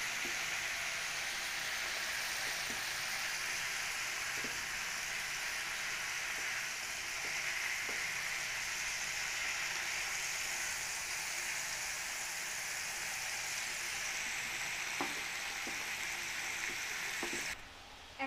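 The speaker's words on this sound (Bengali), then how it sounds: "এবার এগুলোকে অল্প অল্প করে আমরা ফ্রাই করতে থাকবো" Chicken kebabs fry in a pan with a steady, even sizzle that lasts throughout, broken by a few sharp pops. There is no talking.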